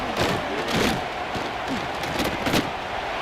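Crowd roar at an Alabama Crimson Tide college football stadium on a third-down play, a loud continuous wash of voices with surging cheers and shouts throughout.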